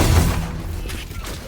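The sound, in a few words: gunfire in a video game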